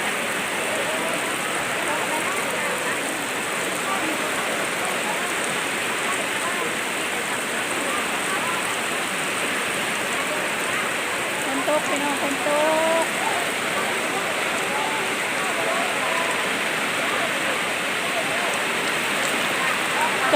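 Steady, loud rain falling outdoors, a dense continuous hiss of drops on surfaces throughout, with faint voices briefly in the background.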